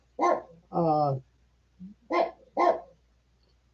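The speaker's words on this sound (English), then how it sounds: "It's my dog." A pet dog barks a few sharp, close barks in short bursts, alternating with a person's brief speech in a quiet indoor room.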